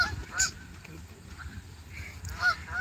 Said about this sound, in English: I'm pretty sure the honks must be coming through pretty clearly.